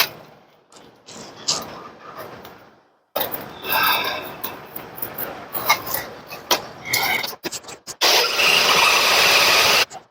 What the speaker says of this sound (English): I'm going to go straight for the Sawzall and see if we can get through that bolt.